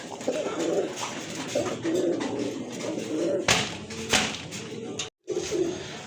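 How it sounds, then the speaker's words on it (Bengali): Racer pigeons cooing close by in a loft, soft repeated throaty coos running steadily through the scene with a couple of sharper knocks and bumps, no talking. "এখানে কিন্তু আরেক জোড়া কবুতর রেসার কবুতর খুবই সুন্দর কোয়ালিটি ফুল কবুতর"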